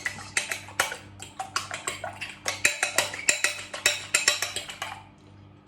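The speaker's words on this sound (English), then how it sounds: "Give our egg a quick mix." A cracked egg quickly beaten in a bowl for cookie dough, with a fast steady series of close clinking taps of utensil against the bowl, then a brief pause.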